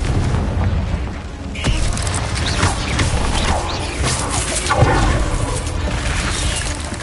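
Fiery Confringo spell blast in the Hogwarts Legacy video game: a dense, loud burst with crackling debris that rumbles on continuously amid other combat effects, with no break in the din.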